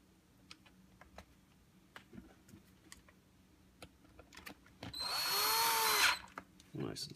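A power drill drives screws into a Harman Kardon Onyx speaker casing, whirring in one sustained burst of about a second, followed by a shorter buzz, with light clicks and handling noises scattered before it.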